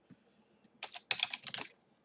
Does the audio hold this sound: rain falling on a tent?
no